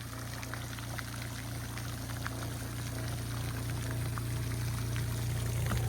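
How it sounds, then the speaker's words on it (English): Water sprayer running in a pond, a steady faint splashing hiss with a constant low pump hum beneath, unchanging throughout. "So Owen quickly traded out that pump for one of our sprayers that we have."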